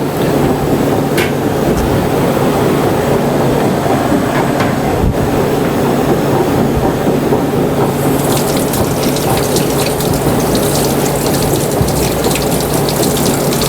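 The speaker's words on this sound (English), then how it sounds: "This freezes so quick, this machine, that you don't need much time." Gelato batch freezer machine running, a loud continuous mechanical churn with a steady hum and rattling gear-like clatter, close and alone.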